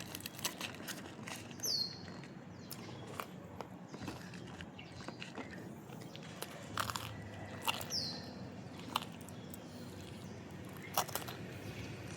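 Crunchy bites and chewing of sticky rice with fried chicken and crispy chicken skin, close to the mic, with irregular bites and a few louder crunches spread over the stretch.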